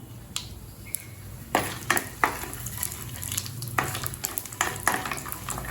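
Curry leaf podi tempering ingredients, including peanuts and a dried red chilli, fry in hot oil with a steady background sizzle and scattered sharp crackles and pops throughout, loud and close with no talk.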